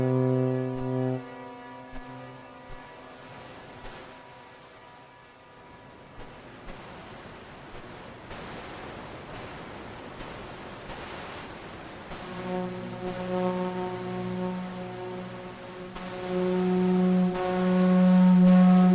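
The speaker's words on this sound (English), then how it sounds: "this is like noise, and then when I let go, you get the actual" Synthesizer played with a delay box and noise generator in an ambient cinematic setting: a soft hiss and hum swell while a key is held, then sustained tonal notes ring out clearly in the second half, growing louder toward the end.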